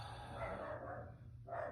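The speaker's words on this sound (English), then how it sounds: "Sorry about my dog. He's barking at something." A pet dog named Bentley gives a short burst of barking indoors, fairly close and loud, with a brief pause before a final bark.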